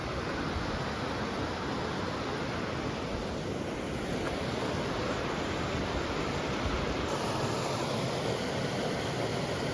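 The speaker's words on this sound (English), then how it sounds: "Looks like a gorgeous river." Broad, steady rushing water from a gorgeous river along the Pacific Crest Trail near Mammoth Lakes, a continuous full-band roar, close and loud throughout with no voices.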